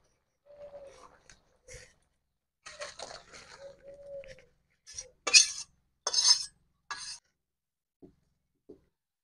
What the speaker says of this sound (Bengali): এবার আমি ঢালবো।